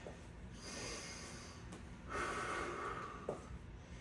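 Heavy, controlled breaths during a HIIT workout: faint, drawn-out inhales and exhales with a short sharp snort-like puff near the end, close to the mic and with no speech.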